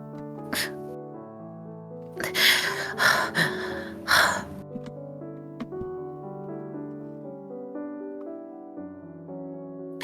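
A character in the game Wilardo pants in a cluster of several short, breathy gasps in the middle, over sustained tonal game music that plays throughout.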